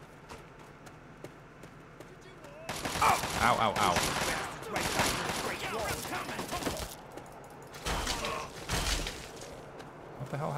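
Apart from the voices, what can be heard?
explosions in a video game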